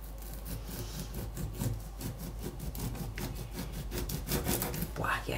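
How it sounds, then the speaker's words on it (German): A knife saws through a firmly set loaf of bread to cut a very thin slice, making steady back-and-forth rasping strokes that scrape close and fairly loud. "Ich schneide mal noch eine Scheibe. Ich versuche mal so dünn wie möglich."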